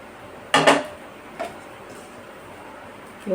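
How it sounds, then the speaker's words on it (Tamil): A metal lid is set onto a cooking pot of steaming pidi kozhukattai, making one sharp clattering clank followed by a softer clink and a faint knock near the end, in an otherwise quiet kitchen. "இப்போ மூடி வச்சுக்கிடலாம்"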